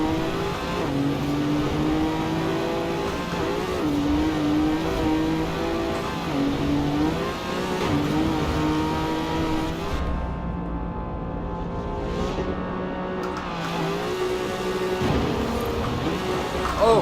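A Renault car engine in the Forza Horizon 4 racing game revs steadily and loudly through gear changes, its drone rising and falling for the whole stretch, with a brief dip in the top end partway through.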